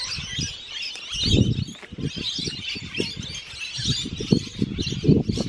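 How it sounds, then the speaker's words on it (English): Many birds chirp and squawk together outdoors, a busy overlapping chorus of parrot-like calls with steady background chatter. "all the birds are chirping. Mostly parrots."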